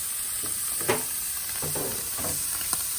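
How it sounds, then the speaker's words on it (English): A steady, bright hiss of marinated flank steak sizzling on a hot grill, constant and close, with a few soft bumps and scrapes beneath it. "Lay it down. Hear the sizzle."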